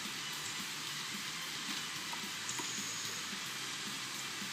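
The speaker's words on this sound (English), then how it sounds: "Oh, raining inside." Steady hiss of rain inside a video game, a soft even patter with no pauses or voices.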